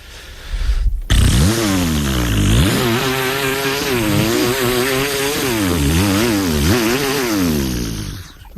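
A voice imitates a chainsaw, buzzing and revving with rising and falling pitch sweeps, loud and close, sustained for several seconds.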